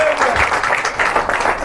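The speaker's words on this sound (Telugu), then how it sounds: "మీరేమో చప్పట్లు కొడుతున్నారు," Audience applause at a pastors' conference in Visakhapatnam, a steady wash of clapping from a large crowd that carries on through the whole stretch at a fairly loud level.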